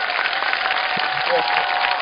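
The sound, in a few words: applause and cheering from an online audience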